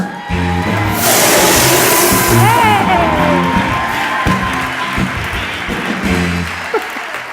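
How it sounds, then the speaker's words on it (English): A large audience at a stage show breaks into loud, sustained applause with some cheering and whoops as a speaker comes on stage, and the applause gradually thins out near the end. "Please give a warm round of applause for Bloomington's own Lindsay Vertner."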